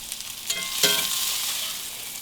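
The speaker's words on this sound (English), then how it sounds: "They're going to cook more in that gravy." Hamburger steaks cook in a pan of gravy, giving a steady soft sizzle and bubbling with a slightly louder burst partway through, close and continuous with no talking.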